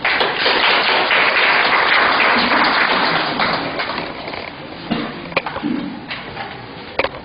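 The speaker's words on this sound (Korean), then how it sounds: "큰 박수로 환영해 주시기 바랍니다" A burst of applause from a crowd at a Korean housing redevelopment association's general meeting, dense at first and thinning out into scattered claps and taps toward the end.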